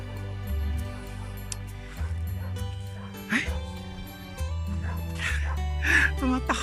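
Dog barking at a farm with a view of Taal Volcano and Taal Lake, a few short barks and yips spread through the stretch, moderately near, with people talking over and between them.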